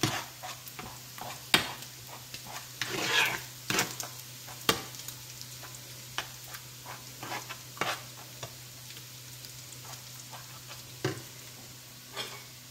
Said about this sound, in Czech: No, ještě tu brynzu tady rozpustím.